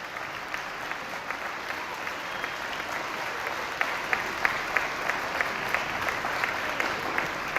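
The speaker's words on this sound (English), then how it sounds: "students, let's give them a huge round of applause" Students at an award ceremony applaud their teachers and staff with steady, even clapping from a large crowd, a few sharper claps standing out near the front.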